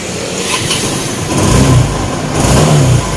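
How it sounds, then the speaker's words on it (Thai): A Yamaha Nouvo 135 scooter, just back from a major service, starts up and revs nearby, its engine rising and surging loudly for a few seconds with no talking. "เดี๋ยวจะติดเครื่องให้ฟังอีกครั้งหนึ่ง"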